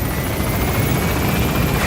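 A military helicopter in the Metal Gear Solid V: The Phantom Pain video game, its rotor thudding in a loud, steady, continuous roar close by.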